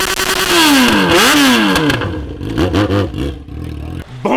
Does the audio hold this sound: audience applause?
no